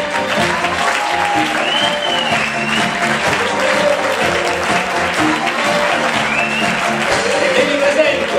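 A lively audience applauds a band introduced on a night radio show, steady clapping mixed with crowd cheers and some voices, holding loud and even throughout.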